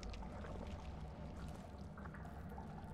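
Water splashing and churning as a character wades through a river in the game GTFO, a steady dense wash of sound that holds evenly close by for the whole stretch.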